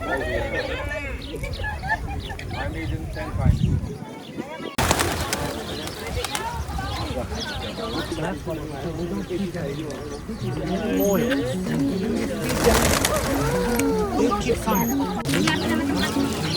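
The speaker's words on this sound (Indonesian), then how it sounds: "Lembah burung merpati." Flock of pigeons at Pigeon Valley in Turkey, where visitors buy bird feed and feed them, cooing and fluttering continuously through a busy outdoor scene, partly under people talking nearby.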